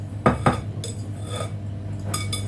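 Dry ingredients being mixed into coffee cake batter, with two sharp clinks of a utensil against a bowl near the start, then softer scraping and stirring in a quiet kitchen with a steady low hum.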